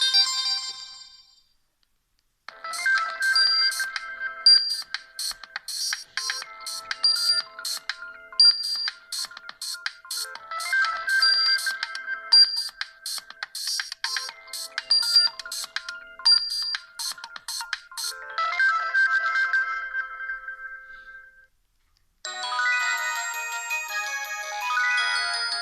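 Several Sony Ericsson C903 ringtones play back to back, bright and close: a long, busy electronic melody, a short pause, then the start of a different tune.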